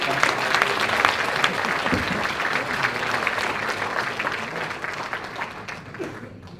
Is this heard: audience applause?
yes